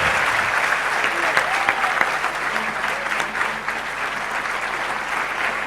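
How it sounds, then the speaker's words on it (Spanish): Loud, steady applause from a conference audience for the President of Argentina, a dense unbroken wash of clapping lasting the whole stretch with no voice standing out. "les pido un aplauso muy fuerte para el presidente de la Nación"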